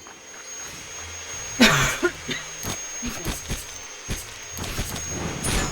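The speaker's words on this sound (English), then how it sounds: "I was having a little cough there" Several coughs and throat-clearing sounds come close by, in irregular bursts over a quiet background hiss.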